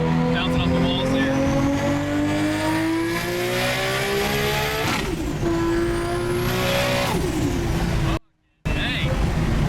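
A 1100 hp RB26-powered Nissan Skyline R34 GTR screams at high revs on the street, pitch climbing and dropping through gear changes, loud and echoing off nearby walls, with a brief cutout near the end.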